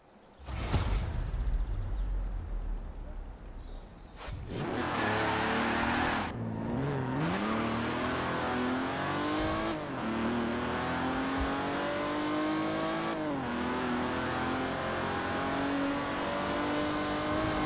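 Forza Horizon 4 car driving through Great Britain: an initial whooshing rush, then a close, loud engine revving steadily with rising pitch sweeps at each gear change and a sustained droning exhaust tone.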